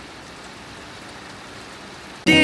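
Light summer rain falls steadily on asphalt as a soft, even hiss, and loud music cuts in abruptly at the very end.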